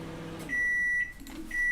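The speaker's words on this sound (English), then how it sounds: "microwave." A microwave oven beeps twice, each a steady high tone lasting about half a second, clear and close against a quiet room with no talk.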